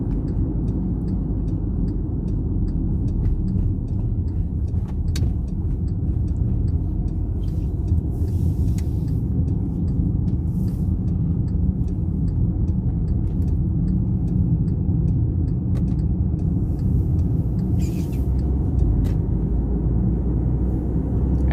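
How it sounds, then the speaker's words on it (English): Steady low engine and road rumble from a 2012 Volkswagen Tiguan turbo while driving, constant and close with a faint whistle of turbo boost, no talking. "If you listen more carefully, you can hear the turbo boosting sound."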